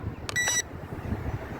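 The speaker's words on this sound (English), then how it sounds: "It'll make a few beeps." JJRC X25 drone controller emitting a short electronic beep, a sharp tonal chirp of about a third of a second, close and clear, followed by quiet room background.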